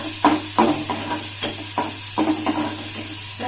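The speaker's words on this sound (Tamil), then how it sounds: "வெங்காயம் ரொம்ப செவங்க வறுக்க வேண்டாம், லைட்டாக வறுத்தாலுமே போதும்." Onions lightly frying in a pan for kara dosai (paruppu adai batter) give a steady sizzle, broken by a regular series of close spatula stirring strokes. No one speaks.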